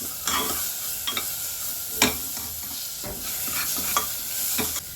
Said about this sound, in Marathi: यामध्ये आपण टोमॅटो घालून घेऊयात हे पण आपण आता छान मस्तपैकी परतून घेऊया